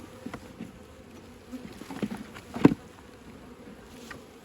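Honey bees buzz around an open, mostly dead-out hive with dead brood, a steady close hum with individual bees darting past the ear and a few sharp knocks of hive equipment.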